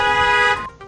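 A single car horn sounds in one loud, close honk held for just over half a second, then cuts off, leaving a faint trailing tail.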